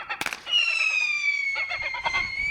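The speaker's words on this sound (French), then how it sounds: "Avec son mégaphone et son pistolet qui tire des fusées sifflantes mais qui ne blesse pas" A gull scarer pistol fires a whistling flare: a sharp crack followed by a long, high descending whistle that wavers and fades, with faint popping and noise underneath.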